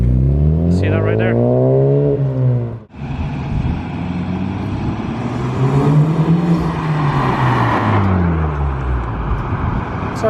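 A Honda Civic Type R with an Invidia 3-inch exhaust and a new muffler revs in repeated rising and falling sweeps, loud and close, with a brief drop between blips and a voice talking over part of it.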